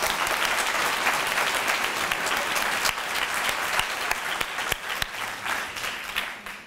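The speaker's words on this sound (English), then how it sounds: "will you join me in Garrett giving the panelists a round of applause" A symposium audience applauds the panelists at the close of a discussion, full and steady clapping that thins toward the end into scattered individual claps.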